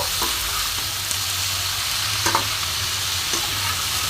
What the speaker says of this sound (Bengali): একসাথে আবার ভাজবো। ভালো করে মিশিয়ে নেব।